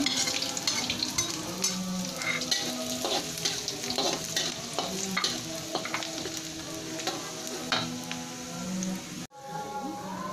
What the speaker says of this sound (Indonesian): kita tumis bawang putihnya dulu sampai harum